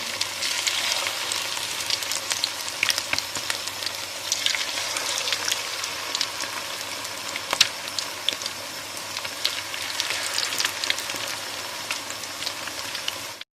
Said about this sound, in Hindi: इस तरह से छोटे छोटे करके हम इसमें ऑयल में डाल देंगे।